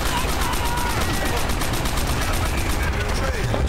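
Sustained rapid machine gun fire rattles loudly and continuously in the Call of Duty: World at War video game, a dense stream of shots over constant battlefield din.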